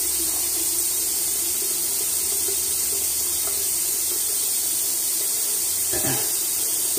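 Cold water runs from a tap onto a rag in a steady, close hiss that continues without a break, with a brief splash or shift in the flow near the end.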